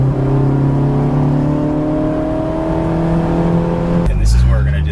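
A 2004 Honda S2000 AP2 engine revs on downshifts, a rising then held whine through the gears that cuts off abruptly near the end, with a driver talking over it.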